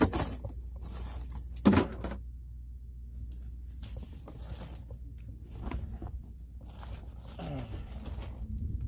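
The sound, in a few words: keys jangling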